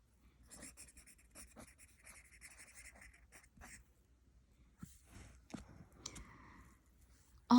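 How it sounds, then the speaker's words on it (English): Pen scratches on paper in quiet, close bursts of short strokes, pausing between words, with a brief sigh and a louder knock at the end. "I'm gonna write condition in parentheses."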